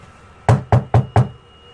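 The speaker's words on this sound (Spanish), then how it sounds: "alguien tocó la puerta." Four firm knocks on a door in a horror story, evenly spaced and close, with a short pause before them and quiet afterward.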